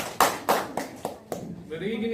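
A class claps hands in unison during a coding lesson, five loud synchronized claps in a steady rhythm, followed by a voice speaking.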